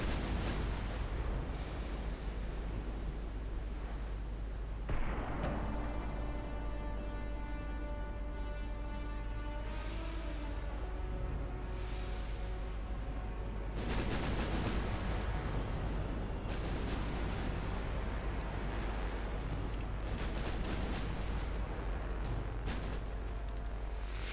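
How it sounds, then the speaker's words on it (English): Heavy naval gunfire from 10-inch and 16-inch guns in Ultimate Admiral Dreadnoughts, with repeated booming salvos and rumbling blasts over a constant low roar of battle, loud and continuous with no voices. "Massive amounts of 10-inch fire coming in from this side, 16-inch fire coming in from the battleships"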